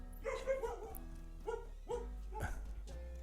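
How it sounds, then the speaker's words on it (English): A dog barks four times in a sharp, fairly regular rhythm, each bark clear and close with brief gaps between. "Alex barking in the woods."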